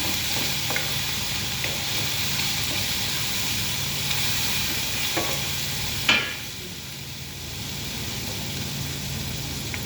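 Chicken with turmeric and pepper stirred in a hot pan, giving a steady close sizzle and hiss with scattered scraping strokes and one louder clatter partway through, after which the frying continues a little quieter.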